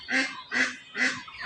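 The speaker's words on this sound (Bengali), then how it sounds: "ওই দেখেন হাঁস দেখছেন, হাঁস আছে, আমাকে দেখে অবশ্যই চলে যাচ্ছে হাঁস" Village ducks give three loud nasal honking quacks in a regular rhythm, fairly close and clear against quiet surroundings.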